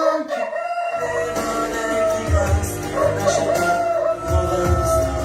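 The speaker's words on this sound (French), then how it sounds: "La rubrique du chant du coq." A rooster crows loudly and close, its call rising and stretching out, with a second crow following, over a steady background hum.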